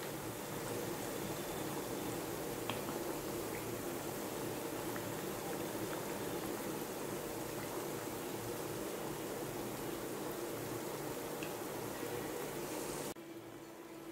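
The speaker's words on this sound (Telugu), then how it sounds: "ఇవి చూడండి ఫ్రై అవుతూ ఉంటే మనకి కనిపిస్తూ ఉంది." Aloo kachori frying in oil in a pan over a medium flame, giving a steady, even bubbling sizzle throughout with no voices, heard close up before it drops away at the very end.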